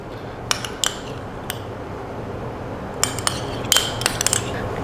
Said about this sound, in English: Give it a little mix around.